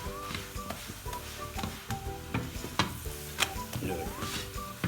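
Lachha paratha frying in a pan, with steady sizzling and occasional scraping and stirring clicks from a utensil, close and moderately loud, no talking.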